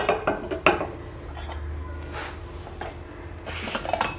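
A metal spoon clinks and scrapes against a bowl of freshly cooked gourd curry in a home kitchen, a few sharp chinks at the start, then softer stirring and another cluster of clinks near the end.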